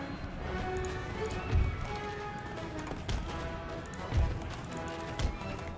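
Cavalry in Empire: Total War charges at a gallop, with several sharp, heavy thumps of hooves over a busy battle din and tonal sound, and no voices.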